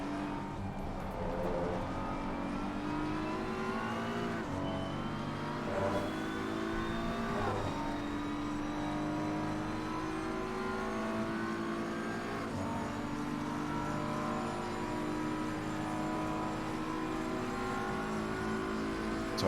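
Race car engines droning and shifting through a lap of Paul Ricard in a racing video game, a steady buzzing whine that rises and drops in pitch with gear changes, fairly quiet and continuous.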